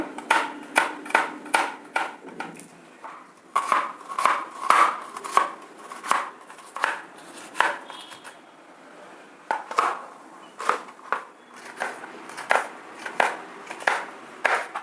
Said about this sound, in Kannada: ಈ ಥರ ತುಂಬ ಸಣ್ಣದಾಗಿ ಹಚ್ಕೊಳ್ಬೇಕು